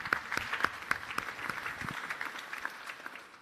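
Audience applause after a pitch at a Pitch@Palace startup event: a soft, steady patter of many hands clapping, fairly distant, with no speech over it.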